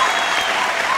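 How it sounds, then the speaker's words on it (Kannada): A comedy stage show audience bursts into dense, continuous applause, a steady wash of many hands clapping throughout the brief moment. "ಹೊಡಿರಿ ಚಪ್ಪಾಳೆ."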